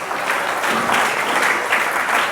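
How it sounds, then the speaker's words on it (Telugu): A church congregation claps loudly in praise of the Lord, a dense, sustained wall of many hands close by, steady without a break and with no voices over it. "గట్టిగా చప్పట్లు కొట్టి ప్రభువుని మహిమపరచండి"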